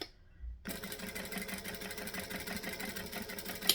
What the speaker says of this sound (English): So I'm now going to stitch the open edge first